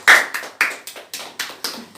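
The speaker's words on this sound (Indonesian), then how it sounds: "Beri tepuk tangan untuk kelompok 1." A class of students claps together in a quick, rhythmic run of about seven sharp bursts for a group during a lesson on Islamic prayer; the claps are close and fairly loud, with no voices over them.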